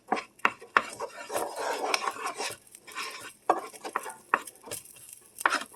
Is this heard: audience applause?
no